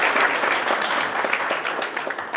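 Loud, dense applause from a large audience at an award ceremony, a continuous roar of many hands clapping for the whole stretch, close and full, with faint crowd murmur mixed in.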